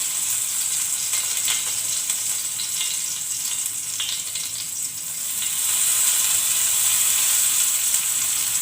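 Curry leaves dropped into hot coconut oil in a pan sizzle and crackle steadily, a bright close-up hiss that swells louder toward the end, with no voices.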